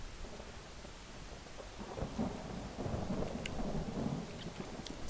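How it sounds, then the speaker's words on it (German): Steady rain hisses with low rolling thunder swelling and rumbling midway in Skyrim, an ambient game storm with no voices. "Regnet, blitzt."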